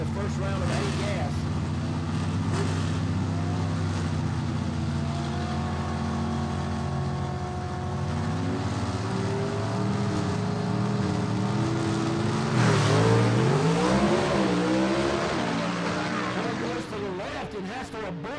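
Gasser drag race cars lining up for the first round of A Gas class at Gulfport Dragway: a steady, loud engine drone with rising and sweeping tones, heard under continuous commentator talk.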